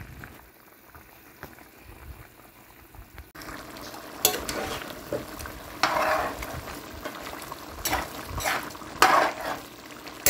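Brown stew chicken bubbles and simmers in a pot while a spoon stirs through it, with scraping and sloshing swells over a steady low simmer, close and moderately loud.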